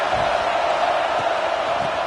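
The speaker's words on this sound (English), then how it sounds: "This crowd bringing the energy and noise early" Football stadium crowd, a constant loud roaring wash of noise from a large audience with no breaks, filling the whole moment.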